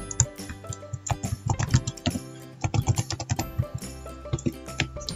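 Rapid, close computer keyboard typing while a password is entered to sign into Microsoft Teams, with irregular bursts of crisp key clicks and short pauses, no voices.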